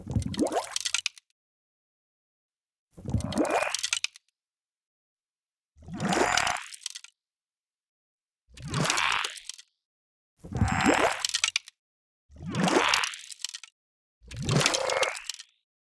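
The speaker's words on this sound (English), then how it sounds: "some water sound of the platform rising and some small ice cracking sounds" Seven separate watery, bubbling swells with a sliding, rising tone, each about a second long and separated by silence: water sounds of a rising platform in the game Too Many Penguins.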